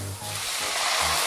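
Aromatics and garlic sizzle in a hot pan for braised ham in chasseur sauce, a steady close hiss and crackle without pause, no talk.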